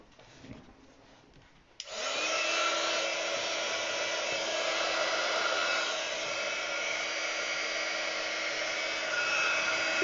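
A heating tool used on gilding work switches on after a short quiet stretch and then blows with a loud, steady whoosh that holds to the end, with no talking.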